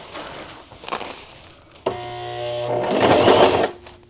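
A sewing machine whirs into a steady, loud mechanical run of stitching after some faint handling noises, then winds down near the end.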